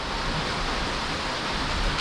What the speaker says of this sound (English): the rain is too much